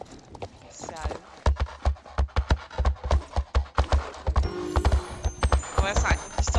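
Horse hooves clip-clopping in the Star Stable online game, a rapid, steady run of distinct close hoof strikes that keeps going over a soft background, with people talking over it.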